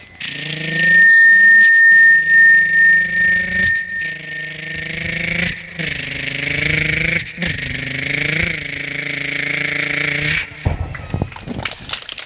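Human voice imitating a bike engine on a mimicry stage: a loud, sustained buzzing drone with rhythmic revving pulses and breaks, ending in a few sputtering bursts.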